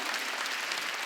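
A church congregation claps together during a Wednesday worship service, a dense, steady roar of many hands filling the hall evenly for the whole moment, with no one speaking over it.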